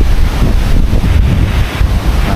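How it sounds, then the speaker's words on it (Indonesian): Gusting mountain wind on Mount Wilis, Madiun, blows hard and without letup in stormy weather, a loud, continuous blustery roar with slight surges and no talk. "Dan anginnya besar sekali."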